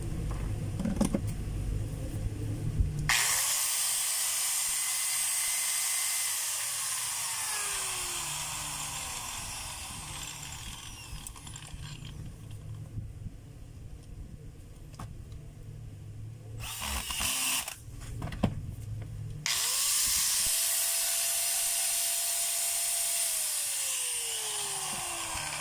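A Stanley STGS9100 4-inch angle grinder, just repaired with new carbon brushes, is switched on for a few seconds, whines down, and runs again later in a loud high-pitched whir that spins up and winds down between runs.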